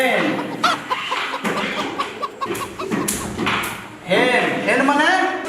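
A child imitates a hen clucking in a classroom, with a run of short, rhythmic clucks that ends in a longer wavering cackle, loud and close. Voices of classmates sound around it.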